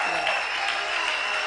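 A church congregation claps in a broad, steady burst of applause that runs for about a second and a half at moderate volume.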